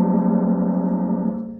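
A gong is struck with a mallet while it is already ringing, giving a fuller, sustained metallic hum with layered overtones. It sounds close and alone, and it fades slightly toward the end.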